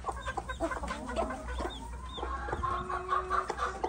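Chickens clucking at a rural home in Turkey, with repeated soft clucks and short calls from several birds at close to moderate range over steady low background noise, with no talking.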